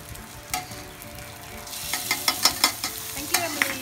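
Prawns go into egg fried rice in a hot pan for Thai khao pad goong, a close steady sizzle that swells into sharper crackling pops as they hit the oil.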